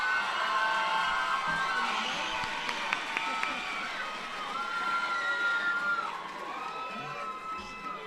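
A graduation audience at Manual Tech cheers for culinary arts students, a steady wash of crowd noise with shouts and whoops that stays loud throughout.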